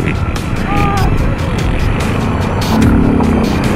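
A motorcycle rides fast down a street with a steady, loud engine drone and a pitch shift partway through, while voices shout nearby.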